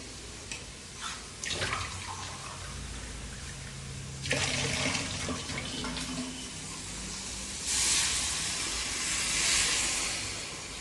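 Water is poured into a pan of vegetable curry made with beans, a hissing rush of liquid hitting the hot pan that surges and lingers as a loud steamy wash, with clinks early on.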